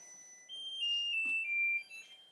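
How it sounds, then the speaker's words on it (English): Kitchen timer alarm ringing in a home kitchen, a bright electronic tone that sounds for over a second at fairly close range, clear against quiet background. "let me turn off the timer."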